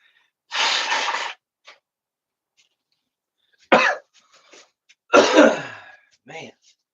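Harsh coughing after a bong hit: a long rough burst, then a sharp cough and a second heavy fit of coughs with short wheezy tails, close and loud, separated by near silence.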